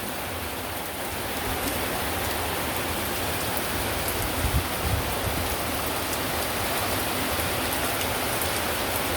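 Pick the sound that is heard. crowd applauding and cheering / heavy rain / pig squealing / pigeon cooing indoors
heavy rain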